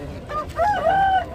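A rooster at the Gudur poultry market, a fancy long-tailed bird of a peacock-type breed, lets out a short, fairly close crowing call over low market noise.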